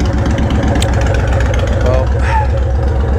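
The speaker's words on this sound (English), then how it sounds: "I want to focus today on the exhaust note," A Honda Fury motorcycle fitted with Cobra Speedster pipes idles with a steady, loud, throbbing low exhaust pulse, close up, while someone speaks briefly over it.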